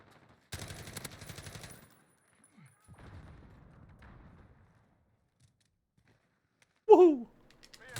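AK-47 fire in the shooter game Hardhat comes as a short, moderately loud burst of rapid shots, followed by a quieter scattered rattle and, near the end, a brief voiced exclamation.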